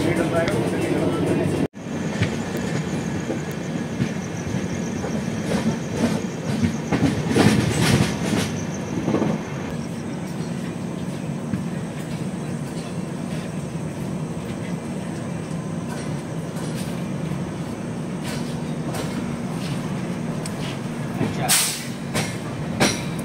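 The Brahmaputra Mail, train 15658 travelling from Assam toward West Bengal, runs steadily on the rails with a continuous loud rumble and rhythmic clatter of the wheels, a brief dropout near the start, and a squeal toward the end.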